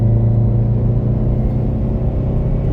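A 2019 Subaru WRX STI Limited engine pulls steadily after a downshift, giving a loud, close, continuous rumbling drone with no talk over it.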